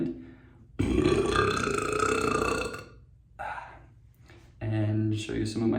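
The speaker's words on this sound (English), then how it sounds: "how I burp on command" A person burps on command in a run of loud, drawn-out belches close to the microphone, with short pauses and faint breathy gasps between them.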